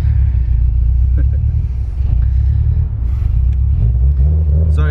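A 2008 Subaru WRX STI GRB Spec R engine heard from inside the car, a loud steady low rumble that swells slightly as the driver gets on the power, with faint voices under it.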